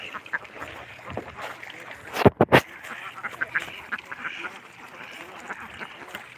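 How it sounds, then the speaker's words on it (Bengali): Several ducks quack in short bursts, fairly close, with a few loud splashy bumps midway and faint voices in the background. "তো এই হাঁসগুলো বিক্রি করে দেব"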